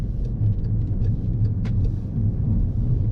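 An automatic car drives and turns on a Canadian road, its engine and tyres making a low, steady rumble from inside the cabin, with a few faint clicks over the hum.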